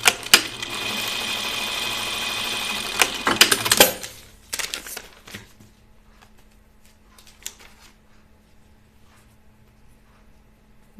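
A sewing machine stitches a seam on a blouse, a rapid mechanical whirring run for about four seconds broken by clicks, then fading to sparse taps and handling noises in a quiet room.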